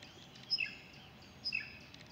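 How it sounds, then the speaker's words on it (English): A red-winged blackbird pestering an eagle gives two short, sharp descending call notes about a second apart, moderately distant over quiet outdoor background near a kayak. "I'm just watching this eagle being pestered by a red-winged blackbird."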